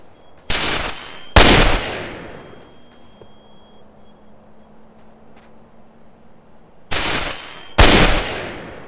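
Gunfire from a Battlefield 2142 weapons mod in the video game GTA San Andreas: four loud, sharp shots in two pairs, each with a long ringing tail, over a steady low hum and no talking.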